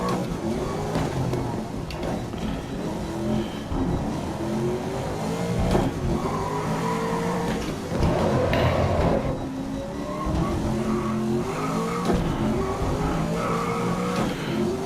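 Racing car in the video game GRID, tires locking and skidding under braking, a continuous loud engine drone with shifting revs and squealing tire noise throughout, steady and close with no talking.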